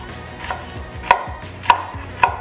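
A knife chops onions on a cutting board in three sharp, evenly spaced knocks, close and distinct over a quiet background.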